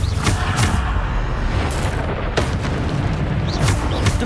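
Bombarda spells explode during magical combat in the video game Hogwarts Legacy, loud booming blasts over a dense, continuous rumble of battle noise.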